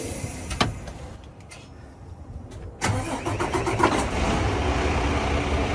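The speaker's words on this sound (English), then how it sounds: "So I'm going to go ahead and start up the vehicle." A truck engine cranks and starts up, a brief whirring crank followed by the engine catching and settling into a steady idle, close and clear, with no voices.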